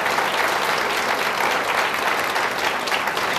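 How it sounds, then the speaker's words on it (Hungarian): A full audience applauds steadily after a talk at a Hungarian lecture event, producing a dense, continuous wash of clapping that stays loud and even throughout, with no talk over it. "Nagyon szépen köszönöm a tapsot"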